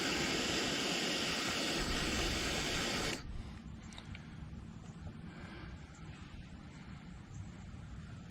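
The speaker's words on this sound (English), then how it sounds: "I'm just going to heat this up with my torch" A handheld torch heats plastic with a loud, steady hissing roar that cuts off abruptly after about three seconds, leaving a quieter background hum.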